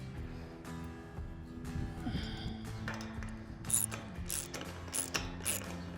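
Metal hinge being tightened onto a steel gate pin, with ratcheting mechanical clicks and small metallic taps over a steady low hum, moderately close and without talk.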